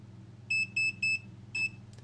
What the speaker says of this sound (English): Beeping reminds you about what you have done